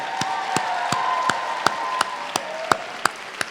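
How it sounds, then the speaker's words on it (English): A crowd applauds at a White House forum on Asian Americans, Native Hawaiians and Pacific Islanders, with a steady wash of clapping and a few sharp, louder claps close by that stand out at regular intervals. "Can we just give another round of applause to all of our incredible speakers and performers"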